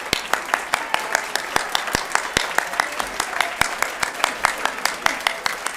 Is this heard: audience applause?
yes